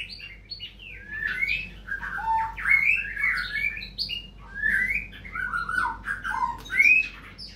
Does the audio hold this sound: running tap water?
no